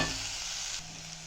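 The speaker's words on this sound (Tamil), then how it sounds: "மாங்காய் இஞ்சி சேர்த்து நல்லா வதக்கிக்கலாம்" Mango ginger sizzles softly as it is sautéed and stirred in a pan, a brief close frying hiss with no talk.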